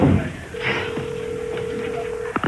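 A telephone call being dialed: a steady electronic tone holds for nearly two seconds, preceded by a brief noisy burst and ending in quick beeps, close and clear.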